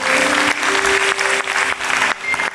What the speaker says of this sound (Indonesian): tim kreatif kita tepuk tangan dong untuk tim kreatif kita